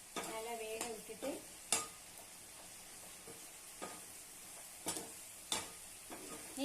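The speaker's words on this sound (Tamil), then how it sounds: "நல்லா எண்ணெய் நல்லா வேகணும். கத்திரிக்காய் நல்லா வேகணும்" Brinjal (eggplant) pieces frying in oil for a Tamil stir-fry side dish, with a quiet background sizzle broken by scattered sharp scrapes and taps of a spoon against the pan.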